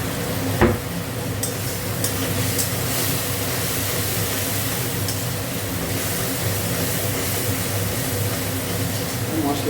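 A spice masala with Kashmiri chili is stir-fried in a pan, giving a steady close sizzle with scraping stirs and one sharp clack near the start.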